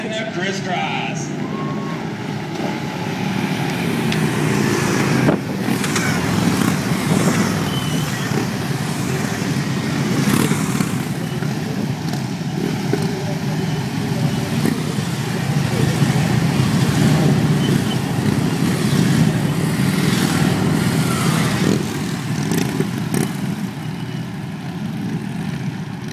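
A police motorcycle drill team rides in formation at an outdoor show, engines droning continuously at a moderate distance under wind and crowd noise, with a commentator's voice over the top.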